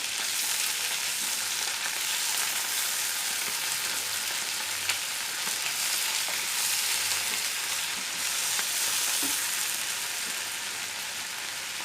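Hilsa fish pieces frying in hot mustard oil in a pan, a steady, loud, crackling sizzle that stays even throughout with a few sharper pops.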